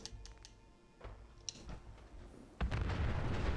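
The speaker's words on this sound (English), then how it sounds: "That was an explosion." Explosions in the video game Fallout 4 during a settlement ambush: a few sharp distant pops early on, then a loud, close, sustained blast with a rumbling roar that fills the end.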